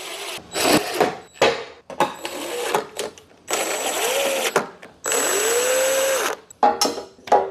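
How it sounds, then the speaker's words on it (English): Hand tool work on LED light fittings for a Bad Boy Outlaw mower, with bursts of whirring, clicking mechanical sound in short separate spells, fairly close and moderately loud, with gaps of near silence between them. "I got the right screwdriver for that."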